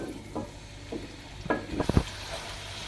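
Marinated chicken goes into hot oil in a pan over a medium flame, bringing a low sizzle with several stirring scrapes and clatters that build to a cluster of knocks, up close and without speech.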